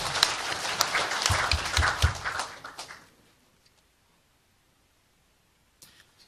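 An audience at a policy forum in Gyeonggi Province applauds for about three seconds, a dense clatter of hands that stops abruptly into quiet, with a faint rustle near the end.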